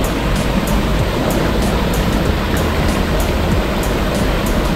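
Katibawasan Falls, a roughly 150-foot waterfall on Camiguin, pours in a steady, dense rushing roar close by, unbroken throughout.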